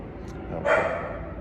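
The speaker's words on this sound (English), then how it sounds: "Helicopter and dogs." A dog gives a single short, faint bark from some distance, rising briefly above a quiet, steady background hum.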